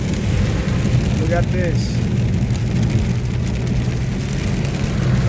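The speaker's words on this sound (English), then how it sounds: "Rainstorm." Heavy rainstorm on a highway during a severe thunderstorm, a steady broadband wash of rain and road noise with a low vehicle rumble running throughout, while a person speaks briefly near the start.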